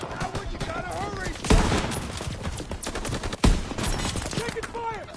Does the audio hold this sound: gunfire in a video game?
yes